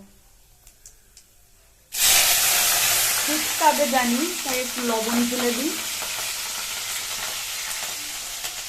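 Radhuni seeds and green chillies hit hot oil in a home kitchen with a sudden loud sizzle that keeps hissing steadily. Someone talks over the frying.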